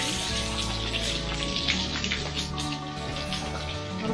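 Water splashes steadily as a horse is washed down, a continuous close spray patter with light irregular drips and no voices over it.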